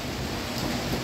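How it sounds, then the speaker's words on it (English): Steady outdoor rain hisses densely on surfaces in a brief, even wash of sound with no voices. "Nice, beautiful rainy day."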